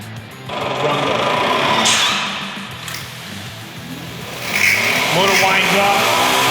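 A Kranzle HD K1622TS power washer for car washing starts up, its electric motor winding into a loud, buzzing high-pitched whine that holds steady, dips briefly and then rises again, with someone speaking over it.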